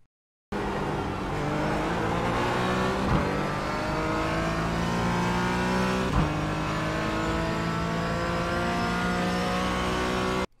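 A GT4 race car engine in the iRacing sim at Barber Motorsports Park drones loud and continuous, pitch climbing through gears with two sharp shift cuts, heard alone without talk.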